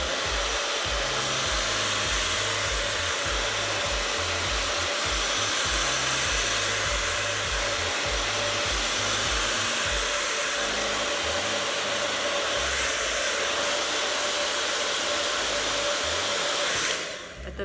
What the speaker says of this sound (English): I was holding my blow dryer right on top of there and bringing it in and out